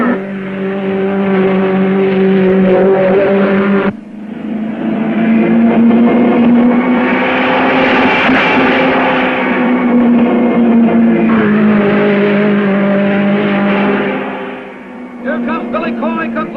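Race cars lap a racetrack, their engines droning loudly and continuously, swelling and fading as cars pass, with a brief dip in the roar midway and near the end.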